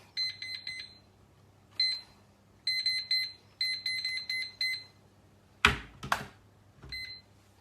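A five-minute kitchen timer beeps in rapid electronic bursts, four clustered groups of beeps repeating close by, then a couple of sharp clicks as it is handled and a final short beep.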